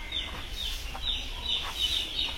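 Young chickens in a poultry farm brooding area near Guwahati, a flock giving repeated high peeping chirps in quick overlapping bursts over a low steady background hum, no one speaking.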